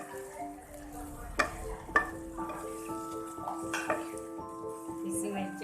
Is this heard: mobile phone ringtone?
no